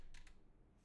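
Two quick clicky keystrokes on a computer keyboard tapped with long nails, close but faint, followed by near silence.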